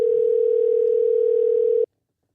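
A steady telephone dial tone hums alone for nearly two seconds while a call is placed, then cuts off abruptly into silence.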